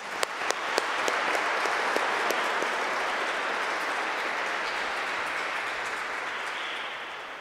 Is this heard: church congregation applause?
yes